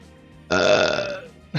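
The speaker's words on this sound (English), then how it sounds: "Burp, guys." A single loud, drawn-out burp right up close, rumbling for nearly a second and then fading, with no talk around it.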